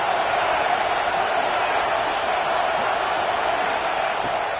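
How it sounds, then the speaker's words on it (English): A stadium crowd roars during a Clemson at Texas A&M college football game, a dense, continuous wall of noise without pause. "This crowd bringing the energy and noise early."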